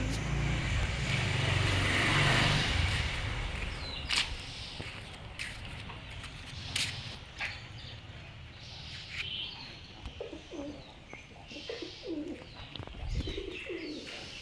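Pigeons coo softly and repeatedly near their chicks in a loft, low throaty calls rising and falling with a few brief chirps, fairly close, over a faint background hum.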